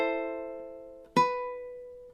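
Second measure of God Rest Ye Merry Gentlemen on ukulele, a ringing chord decaying softly and then a single fresh strum that rings out alone, quiet and unaccompanied.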